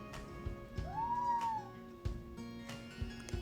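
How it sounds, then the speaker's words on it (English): A pet cat gives a single clear meow, close and fairly soft, with faint knocks and shuffling around it. "And my cat says hello today."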